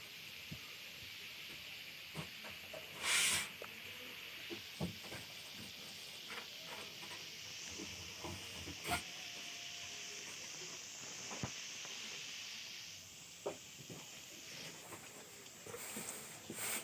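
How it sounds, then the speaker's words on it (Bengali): Prawns frying in a pan for a prawn and cucumber curry give off a steady, faint, hissing sizzle with scattered small pops and clicks, close by and continuous throughout. "দেখা যাক কত সুন্দরভাবে চিংড়ি মাছটা ভেজে নিচ্ছি"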